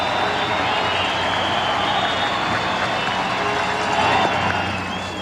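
A packed baseball stadium crowd roars steadily during the 1995 World Series, a dense, continuous wall of cheering and murmur that swells slightly near the end.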